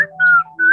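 A bird calls in a few clear, whistled tones, with a sustained note, a brief pause, then another rising whistle, loud and close with no talking.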